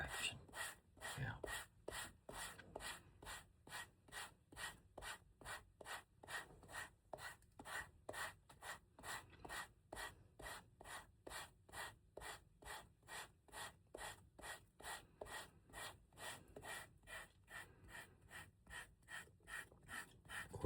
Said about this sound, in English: Just sand in one direction.